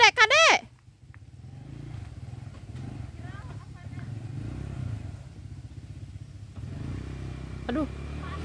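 A motorcycle engine rumbles along a road at moderate distance, holding a steady drone with slight rises as it goes by, while a voice briefly exclaims near the start.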